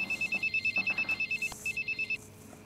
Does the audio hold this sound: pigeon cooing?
no